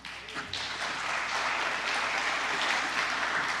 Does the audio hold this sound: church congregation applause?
yes